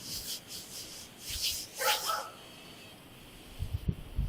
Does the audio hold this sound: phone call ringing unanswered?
no